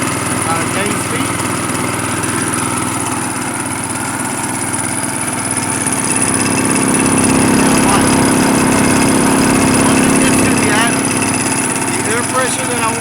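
A gasoline-powered air compressor engine runs steadily and loud, its drone rising in pitch and intensity partway through as it gains speed, with a voice talking over it.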